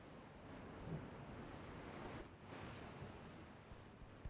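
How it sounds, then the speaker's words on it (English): Heavy seas wash over a warship's deck in the naval game Ultimate Admiral: Dreadnoughts, a faint, continuous surf-like roar with wind, low in level and unbroken. "those waves are literally crashing over the whole fucking deck"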